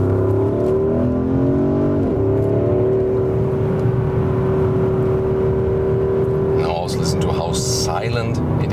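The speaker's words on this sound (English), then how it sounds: "It also indeed has this, you know, high frequency turbo sound." A turbocharged car engine hums and revs steadily with a sustained high turbo whine running over it, close and loud, while someone talks over the engine noise.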